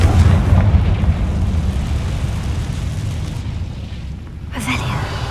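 A Confringo blasting spell going off in Hogwarts Legacy, a loud, close explosive burst followed by a long, rumbling roar that slowly fades, with a sharp crackle near the end.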